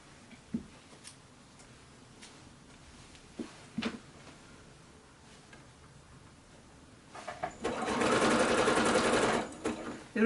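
A sewing machine stitches binding onto a quilt in a quiet room, a few soft ticks and handling taps giving way to a steady, close whirring run of stitches near the end.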